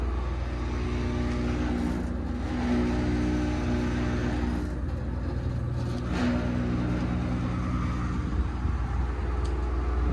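An outdoor air conditioner unit runs with a steady droning, engine-like hum and a rattly whir, close and continuous for the whole stretch.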